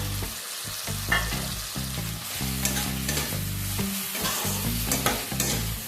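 Tomato paste is stirred into frying spices in a pan for a duck egg curry. It makes continuous close sizzling and frying with repeated scraping stir strokes and no voices.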